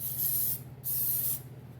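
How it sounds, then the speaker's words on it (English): Two quick hissing bursts from a can of virgin olive oil cooking spray, close and fairly quiet, separated by a brief pause. "I just spray with this virgin olive oil cooking spray"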